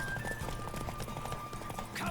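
Horse galloping in the video game Witcher 3, fast, even hoofbeats pounding close and loud over a steady background drone, with a brief whinny-like tone near the end.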